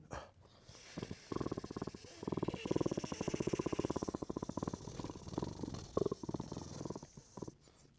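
A voice makes a long, rumbling growl imitating a big cat's roar, pulsing rapidly and steadily for several seconds, close and low.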